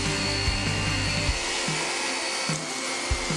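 Dyson DC25 multi-floor bagless upright vacuum cleaner with a motorized brush bar, running with a steady, loud motor whine that dips briefly as the brush bar engages and then continues.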